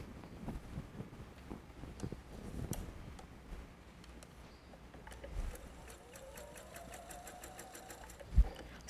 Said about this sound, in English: So I always try to plan it so that when I'm sewing, those seams are going in the direction that's going to go smooth with my sewing machine